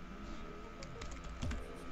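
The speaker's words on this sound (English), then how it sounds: "some heckin' typing." Fingers type on a computer keyboard while someone programs a discord.py music bot, producing a quick run of soft, close clicks and taps over a low steady background hum, with no voices.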